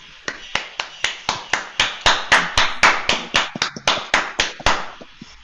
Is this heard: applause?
yes